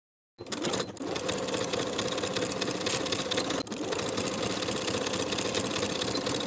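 A sewing machine stitches knit shoulder seams in a fast, steady mechanical whir that starts abruptly, pauses for an instant partway through, then runs on evenly and close up, with no talking.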